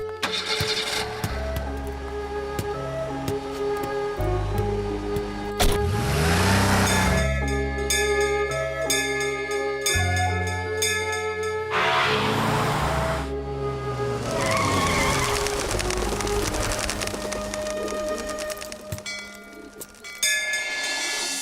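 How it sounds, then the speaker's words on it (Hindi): A car engine fires up and the vehicle pulls away with squealing, skidding tires, the roar rising and falling over a busy cinematic soundtrack in a South Indian action film. "गाड़ी स्टार्ट करो।"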